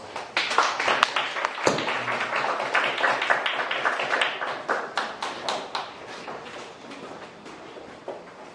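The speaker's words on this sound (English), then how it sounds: "please let us all welcome today's speaker, Yeon, with a big round of applause" An audience at a public talk claps to welcome a speaker: a dense burst of hand claps that starts full, breaks briefly, then thins out into scattered individual claps as it fades.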